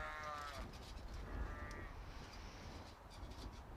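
Sheep of UK breeds bleat a couple of times at a distance, faint wavering calls over a busy, murmuring crowd and general outdoor background noise.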